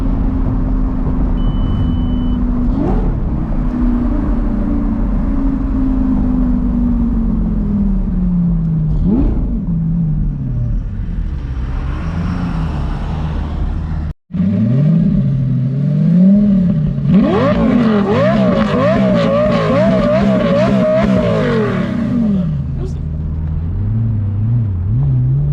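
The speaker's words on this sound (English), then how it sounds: "We'll do a couple of revs." A powerful car engine with a Top Speed Pro1 race pipe, muffler deleted, revs close by with loud exhaust, its pitch sweeping up and down, first in a few separate revs, then a rapid burst of blips.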